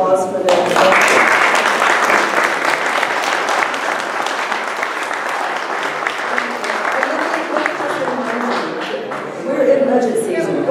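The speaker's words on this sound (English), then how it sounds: "if we can have a round of applause for them" A crowd applauds police officers, the men and women in blue, at a public meeting, steady full clapping for about ten seconds, loud and close with a slight swell near the end.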